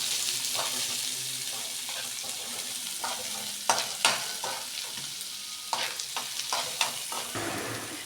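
Onions fry in a pan with a steady, close sizzle, broken by a series of scraping, clattering strokes as a spoon stirs them, louder in bursts toward the end.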